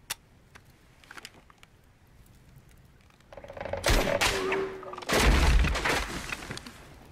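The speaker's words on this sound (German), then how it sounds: "Major, demonstrieren Sie die Waffe mal bei Einzelfeuer." A P90 submachine gun fires in single-shot mode during a military weapons demonstration, with a few sharp, loud shots and crashing impacts bunched in the second half after a quieter start.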